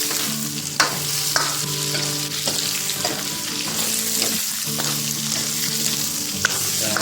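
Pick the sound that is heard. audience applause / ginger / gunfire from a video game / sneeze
ginger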